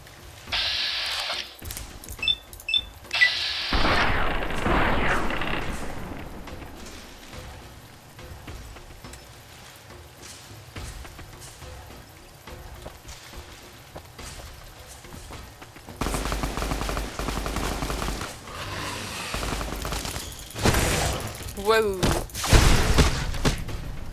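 Bursts of gunfire come from a Fallout: New Vegas game: rapid volleys and single shots, loud in stretches and then dropping away, with a voice talking over parts of the fighting.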